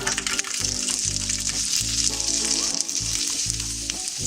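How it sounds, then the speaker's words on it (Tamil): Garlic sizzles and fries steadily in hot oil in a pan for chutney, a loud continuous crackle with a low bubbling hiss throughout, no voices. "இப்போது எண்ணெய் சூடாயிடுச்சு. நம்ம இதில் பூண்டு சேர்த்துக்கலாம்."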